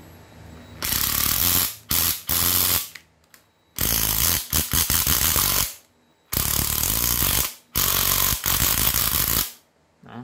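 Electricer mini 3.6V brushless cordless screwdriver, a Japanese used model, runs in hammer mode in several loud bursts of rapid rattling impacts, with short pauses between triggers and no talk.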